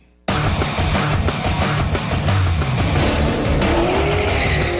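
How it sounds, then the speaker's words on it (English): Cars tear off the start of a quarter-mile drag strip into a slalom course, an abrupt loud burst of revving engines and squealing tires that stays intense and continuous throughout. "the teams must tear out of the starting block of our quarter-mile drag strip, weaving around the slalom poles as quickly as possible"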